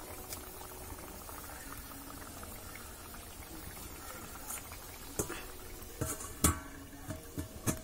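Potato curry bubbling steadily in a pot, a continuous soft simmering hiss with a few sharper pops and clinks toward the end.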